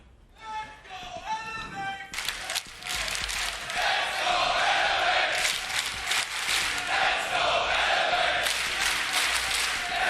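Esports arena crowd at the Six Berlin Major quarterfinals cheering loudly for their team, a dense sustained roar with chants that swells after a brief opening of tonal music and carries on to the end.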